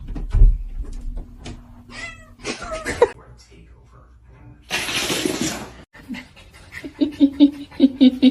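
A pet cat meows a few times, with short vocal calls amid household clatter and a burst of noisy brushing or running water, with people talking nearby.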